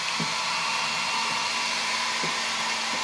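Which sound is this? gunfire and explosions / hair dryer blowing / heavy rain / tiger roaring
hair dryer blowing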